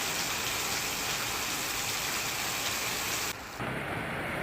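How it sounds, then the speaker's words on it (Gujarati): Heavy monsoon downpour in Gujarat, a dense, steady roar of rain on surfaces that fills the whole stretch, briefly dipping near the end before resuming, with a low rumbling undertone like distant thunder. "પાટણ, સિદ્ધપુર, રાધનપુર, હારીજ અને સાતલપુર પંથકમાં ધોધમાર વરસાદ પડ્યો હતો"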